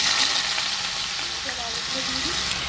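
Potatoes hiss and crackle as they fry in oil in a pan for home-cooked aloo, a steady close sizzle with no pauses.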